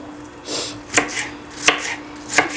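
Green tomatoes roughly chopped with a knife, a few crisp close cuts landing on a board at irregular intervals with soft rustles between, no speech.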